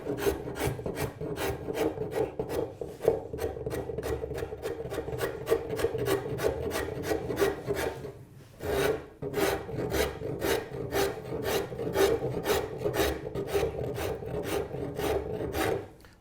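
A rasp or file carving a slope into a wooden captain's chair seat, making quick rhythmic scraping strokes, close and steady, with a brief pause near the middle before the strokes resume.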